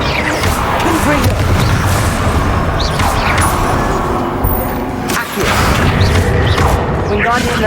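A Confringo spell explosion in Hogwarts Legacy comes through as loud booming crashes and bursts layered over busy combat noise, with a brief dip in the middle of the clip.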